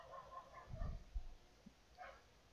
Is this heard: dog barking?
yes